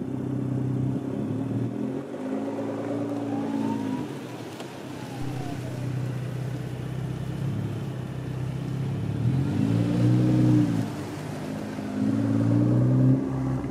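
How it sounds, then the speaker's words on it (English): A parked BMW with an MHD burble exhaust tune is revved, producing a steady engine drone with rising and falling rev sweeps and crackling, loud and close throughout. "let me go ahead and just park the car and I'll rev it up a little bit for you"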